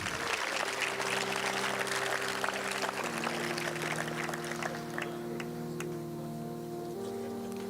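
Audience at a high school capping ceremony applauding team coaches and mentors, a continuous dense patter of clapping with a steady tonal hum running beneath it throughout.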